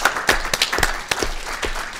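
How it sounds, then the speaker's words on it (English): A roomful of people clapping steadily in a warm round of applause. "please join me in a round of applause for their"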